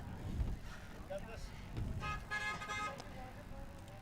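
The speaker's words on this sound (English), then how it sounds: "Honking will continue until freedom improves, eh?" A car horn toots amid roadside traffic at a street gathering in Sylvan Lake, Alberta, sounding a couple of times in the middle while people talk nearby over a rumbling background.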